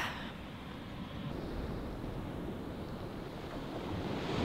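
Sea waves wash and surge along a shore, a broad continuous roar with wind buffeting the microphone, swelling slightly toward the end, with no talk.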